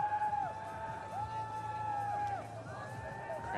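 A crowd at a men's mass start cross-country ski race in Norway cheers and whoops from a distance, with whistle-like tones rising and falling over the noise, and a commentator's voice faintly under it.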